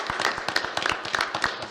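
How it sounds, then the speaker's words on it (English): People at a Dougherty County Commission meeting clap in a brief burst, crisp individual hand claps close by with a quick uneven rhythm. "let's give y'all a round of applause"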